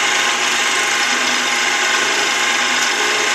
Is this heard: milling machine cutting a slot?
yes